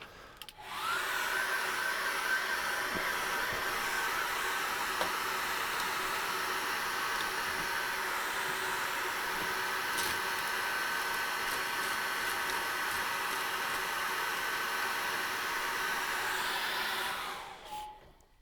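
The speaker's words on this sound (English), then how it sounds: "quickly dry that with a hairdryer" A hairdryer blows with a steady, loud whoosh of airy noise, switched on at the start and cut off near the end.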